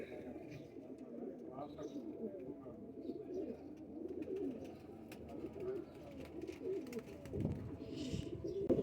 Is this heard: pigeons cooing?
yes